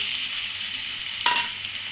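Chopped medium-sized onions hit hot oil in a wok, giving a steady close sizzle with a sharp burst of crackling as they go in and a bright frying hiss afterward.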